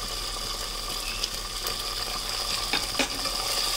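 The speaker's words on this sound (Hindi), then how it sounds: "अब हम इसमें डालते हैं ये टमाटर जो चॉप किए थे" Chopped tomatoes sautéing in a kadai for kadai paneer, making a continuous close sizzle with occasional scraping and stirring clicks against the pan.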